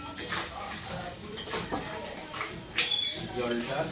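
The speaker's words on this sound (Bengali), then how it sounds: "এইভাবে এখন আমি কিছুক্ষণ ভাজছি।" Spice paste for crab curry being fried and stirred in a pan, with scraping and clinking of a utensil against the pot in irregular bursts, near and moderately loud, a faint sizzle beneath.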